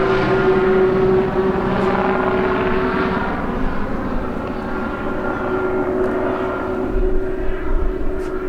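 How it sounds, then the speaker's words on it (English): A sheriff's helicopter passes overhead with a steady, droning rotor and engine hum that holds at a moderate level throughout, with no talking. "Sheriff's helicopter overhead, becoming an all too common occurrence around here."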